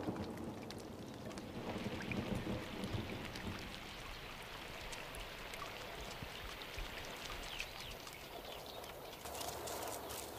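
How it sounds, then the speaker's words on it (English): Late summer thunderstorm breaking a drought, steady hissing rain with low rumbling thunder underneath, spread evenly over the whole stretch with no voices. "A late summer storm breaks Kalamiley's season of drought."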